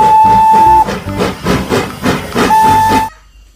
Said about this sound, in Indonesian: Ini adalah kereta Thomas.